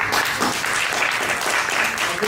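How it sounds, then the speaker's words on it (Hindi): Students at a dental clinic party break into dense, loud, continuous applause that sounds like a packed room clapping together. "जो स्टूडेंट्स है वो एक बार जोर से तालियां मारो"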